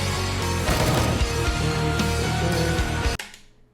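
Gunshots from Counter-Strike ring out in a fragmovie, dense and loud under heavy music, ending with a sharp final crack before a quick fade.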